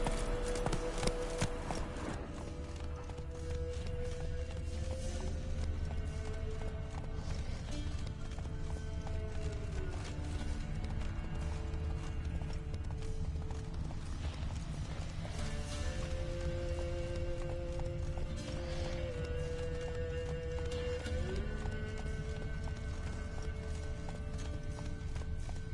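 Hooves of the horse Roach pound in a steady galloping clip-clop rhythm in The Witcher 3, loud and continuous under swelling orchestral game music, with a brief voice at times.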